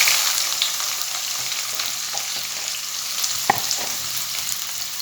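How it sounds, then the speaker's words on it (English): Sliced onions fry in hot oil mixed with a little ghee, giving a steady, close, dense sizzle with one brief clink of stirring partway through and no talking. "We will fry them till they turn light golden brown in color."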